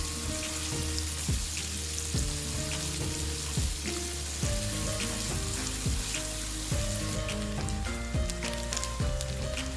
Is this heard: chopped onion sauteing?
yes